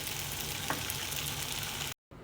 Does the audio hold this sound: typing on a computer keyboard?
no